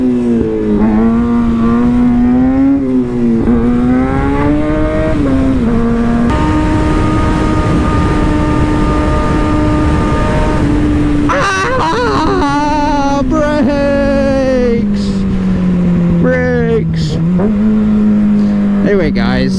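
A motorcycle on the road whose engine drones steadily and rises and falls in pitch as it revs and shifts, loud and close throughout, with wind noise over it.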